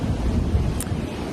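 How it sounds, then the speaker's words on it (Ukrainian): Strong outdoor wind buffets the microphone in a brief, loud, rushing gust with no voices. "зараз дуже-дуже вітряно"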